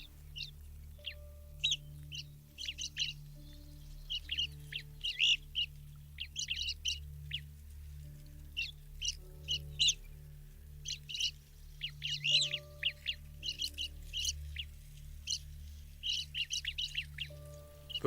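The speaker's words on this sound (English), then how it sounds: "Northern birds give the woods its voice," Northern forest birds, such as evening grosbeaks and Canada jays, sing in snowy north woods, with repeated short chirps and call phrases in clusters, moderately near and clear over a quiet low hum.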